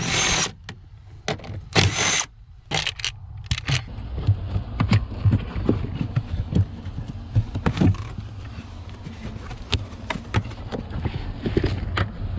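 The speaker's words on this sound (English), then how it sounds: "We got two 10mm bolts. We'll take these out as well." Two 10mm bolts being removed near a car's throttle pedal in a Mazda MX-5 footwell, heard as repeated close ratcheting and clicking tool sounds with a few louder knocks at the start, no talking.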